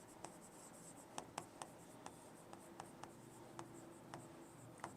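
Pen scratching on paper while a maths problem is worked out, with quiet, irregular ticks and short strokes over a soft hiss, close and faint, and no speech.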